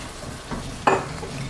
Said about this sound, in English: I'm adding Marsala wine to deglaze the pan.